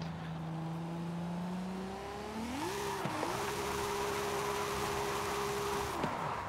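A Nissan 200SX S14 drifting under full throttle in Forza Horizon 5: the engine drone climbs and holds a steady high whine while the tires squeal throughout, then the revs drop off sharply at the end.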